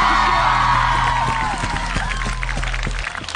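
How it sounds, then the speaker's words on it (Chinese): Studio audience at a live televised singing contest final applauds and cheers, a dense wash of clapping with a few whoops that thins toward the end, under the tail of a host's voice. "再次热情用掌声鼓励他们"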